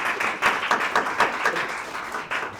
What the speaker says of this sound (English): please join me in a round of applause to thank our board